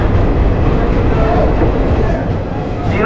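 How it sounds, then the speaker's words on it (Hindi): Passenger train arriving at Muzaffarpur station on a New Jalpaiguri to Udaipur City journey, a steady loud rumble and rattle of the rail cars heard from on board, continuous throughout. "हमारी ट्रेन गाइस मुजफ्फरपुर पहुंच रही है"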